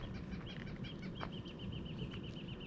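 Near a trail, small birds chirp in a quick repeated series over a steady rumble of wind or movement, with a faint flutter in the middle.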